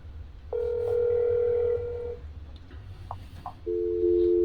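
Telephone dialing tones in the horror video game That's Not My Neighbor; a sustained electronic tone, a few short soft blips, then another steady tone starting, with a faint background hum.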